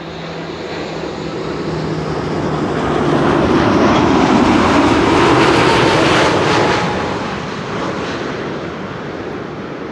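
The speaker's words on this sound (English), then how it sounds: "This is American Airlines, flight 220, arriving from Dallas, Fort Worth, Texas." An American Airlines Boeing 787 Dreamliner lands at Amsterdam Schiphol, a broad jet roar rising to a loud peak mid-passage and then fading as the aircraft passes by.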